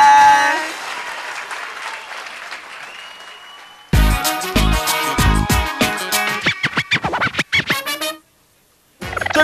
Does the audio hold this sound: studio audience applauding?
yes